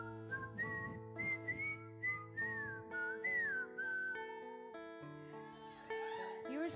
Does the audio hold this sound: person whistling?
yes